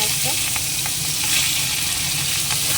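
Shrimp frying in hot oil with dried red chillies and radhuni seeds, giving a loud, dense, continuous sizzle close by, with a few faint utensil knocks and no speech.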